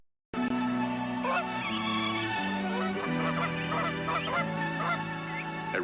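Geese honk loudly and steadily for several seconds, a dense overlapping chorus of nasal calls close by.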